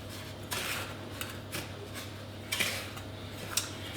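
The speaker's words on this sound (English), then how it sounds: "next we need to stir in the brown sugar. Give that a quick stir around." A utensil stirs brown sugar into sieved flour in a bowl for a carrot cake, giving soft scrapes and light clinks at irregular intervals over a quiet background, with no talking.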